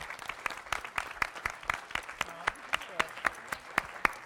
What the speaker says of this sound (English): So I want to give the moms and dads a round of applause